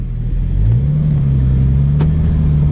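A 2016 Porsche GT3 RS engine under way with its PDK transmission, a loud, steady low drone that rises in pitch and then holds, with a faint click partway through, heard from inside the car.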